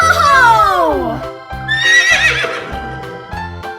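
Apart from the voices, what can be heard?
horse neighing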